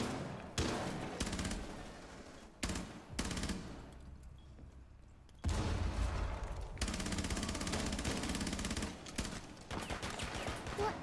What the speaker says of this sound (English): Why are people shooting?